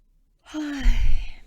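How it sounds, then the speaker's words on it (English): A single close, drawn-out yawn: a voiced tone sliding downward, then breathy exhaling that trails off. "That was a yawn."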